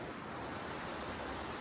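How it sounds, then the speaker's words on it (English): A waterfall on a Mt. Baldy mountain trail gives off a steady, dense rush of falling water, close and unbroken for the whole short stretch. "Behind me is a waterfall. It came from the mountain."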